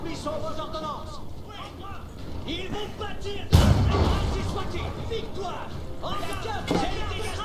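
Cannon artillery fires during battle in the real-time strategy game Age of Empires IV, a heavy boom landing midway over a busy mix of combat noise while a commentator talks throughout.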